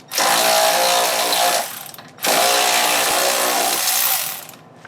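A power tool loosens a 19 mm bolt on the reaction arm of a Nissan 350Z, firing two loud, close, sustained buzzing bursts separated by a brief pause.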